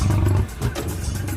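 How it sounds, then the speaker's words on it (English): American lion roaring in a deep, loud, rumbling burst, close, with a brief pause before the growl resumes. "And the massive American lion."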